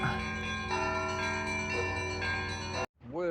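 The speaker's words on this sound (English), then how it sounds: "I'm ringing them bells" Church bells ring out the hour in a Moldovan town, overlapping resonant tolls sustained for nearly three seconds before cutting off, followed by a brief voice.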